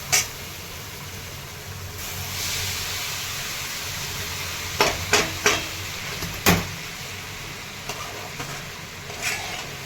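Okra sautéed earlier is stirred with Maggi masala in a pan, giving a steady soft sizzle broken by a few sharp scraping clicks of the spoon against the metal.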